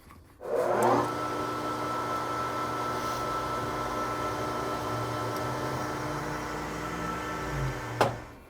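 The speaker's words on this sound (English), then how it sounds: "Let's hop over to the lathe and see if we can see this guy in action." A lathe spins a drum mandrel for a 6x48 belt sander, a steady close whirring motor hum that starts abruptly, holds evenly for several seconds, then ends with a sharp clunk.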